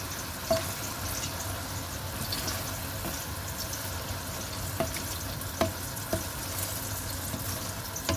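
Tomato curry with coconut milk and pepper being stirred in a pan, a steady low sizzle and bubbling with a few soft utensil scrapes against the pan, close and moderately quiet, no talking.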